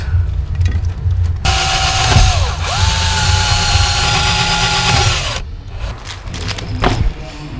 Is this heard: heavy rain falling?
no